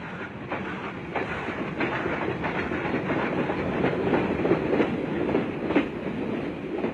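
Train rolling along a railway in West Java, wheels beating a steady clickety-clack over rail joints under a continuous rumble, fairly close and even throughout.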